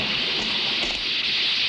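Steady rain falling in a film scene, a dense, loud hiss of drops with no break throughout.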